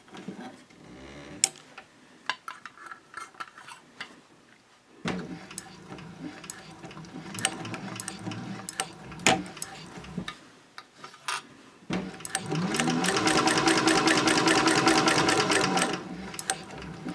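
Sewing machine stitching the side of a fabric all-purpose caddy, a close, steady mechanical whir of several seconds following scattered clicks and handling of the fabric, with no talking.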